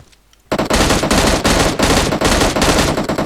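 After a moment of quiet, loud sustained automatic gunfire erupts in PUBG Mobile, a fast continuous rattle of close shots with brief dips between bursts.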